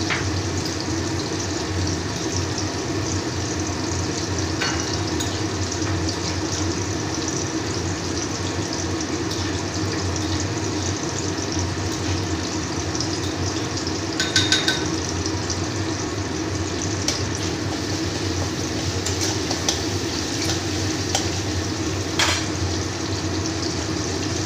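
Tomatoes frying in oil for a tangra fish tel jhal curry make a steady, unbroken sizzle that carries on evenly for the whole stretch, with no voices.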